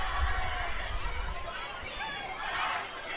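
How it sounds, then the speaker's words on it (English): A big student crowd at a high school football game between USC and Canon-McMillan keeps up a steady, diffuse roar of chatter and cheering beneath a voice talking nearby. "Big student crowd here tonight,"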